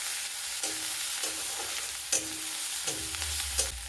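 Grated garlic frying with onion in a pan of oil, a constant bright sizzle with periodic scraping and stirring strokes, some lower rumbling knocks from the pan, and no voices.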